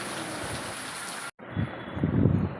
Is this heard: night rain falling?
yes